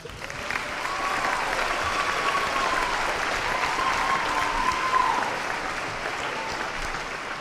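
Sustained high school assembly applause for senior scholarship recipients, a dense wash of many hands clapping that swells quickly, holds steady for several seconds, then gradually thins, with a faint voice or tone running underneath.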